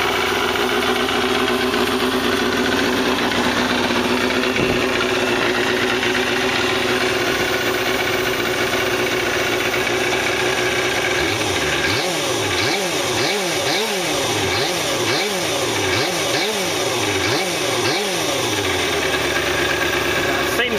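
A cold Kawasaki ZXR250 motorbike engine idles steadily while warming up, a loud close buzzing drone, and from around midway a rhythmic pulsing throb sets in as the revs rise and fall repeatedly.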